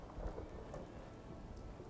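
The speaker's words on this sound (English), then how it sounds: "It's always raining in Nuka World." Rain and thunder in Nuka World in the video game Fallout 4: a faint, steady wash of rainfall with a soft low rumble, with no voices.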